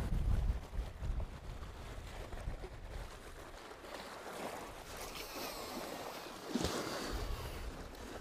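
Strong wind on a rocky seashore: a steady blustery rush with gusts, surf washing faintly underneath and a louder buffet near the start, no voices.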